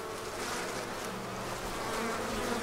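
Honey bees swarm around a queen inside a hive, giving a dense, continuous buzzing drone that stays close and fairly loud throughout, swelling slightly toward the end, with no voices.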